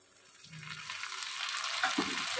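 A paste of cumin, ginger and green chili with salt and turmeric hits hot oil with onions in a pan, a soft crackling sizzle building steadily louder, with faint stirring scrapes near the end.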